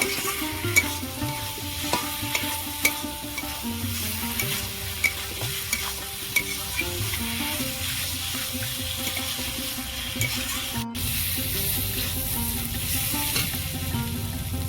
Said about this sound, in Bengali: ভালো করে এইভাবে অনেকক্ষণ ধরে কষিয়ে নেব